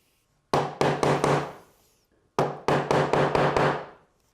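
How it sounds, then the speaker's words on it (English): Carving and bench chisels are struck to cut wood for a candle box lid. Two quick groups of sharp, close mallet-on-chisel knocks ring out with a short silent gap between them. "I'll be using some carving chisels and some bench chisels"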